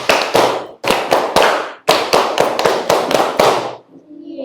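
A group claps in a patterned rhythm inside a classroom, with sharp, loud bursts of hands broken by short pauses that build into a quick run of claps before stopping.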